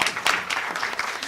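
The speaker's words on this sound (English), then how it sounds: "So a big round of applause." An audience claps for a session moderator at a women's event in India; a brief, moderately loud patter of hands with uneven bursts, lasting only a moment.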